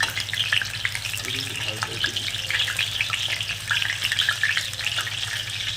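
Soya chunks fry in hot oil over a high flame, a steady close crackling sizzle with occasional stirring scrapes running throughout, with no talking.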